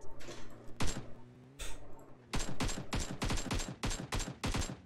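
PUBG Mobile gunfire: a couple of single shots, then a rapid string of close, loud automatic bursts with steady rhythm over faint background game noise.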